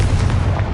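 A loud, booming fire-spell blast from Hogwarts Legacy, the Confringo curse erupting in one dense, sustained burst that fills the whole moment with no voices.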